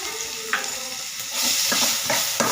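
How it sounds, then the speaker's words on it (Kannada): Chicken fries with tomato and salt in a pan, a loud continuous sizzle with a few sharp stirring scrapes and bursts as the pieces are turned, alone without voices. "ಚೆನ್ನಾಗಿ ಒಂದು ಫ್ರೈ ಕೊಡಿ"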